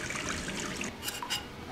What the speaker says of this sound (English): you turn the faucet on